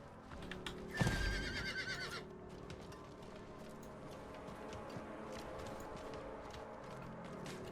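A horse mount in the Diablo 4 video game lets out a loud whinny, then its hooves clip-clop steadily at a moderate pace under low game ambience.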